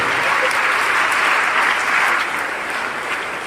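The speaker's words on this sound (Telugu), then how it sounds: "once again a good clap around for మహిళా పోలీస్" A crowd applauds women police at an International Women's Day event in Allagadda, a dense, steady burst of clapping that holds loud for a few seconds before easing slightly.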